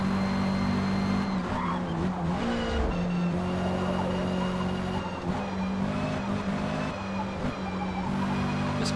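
Racing car in Forza Motorsport lapping a track flat out, a steady loud engine drone with gear-shift pitch changes and brief tyre scrubs running through the whole stretch, no voices.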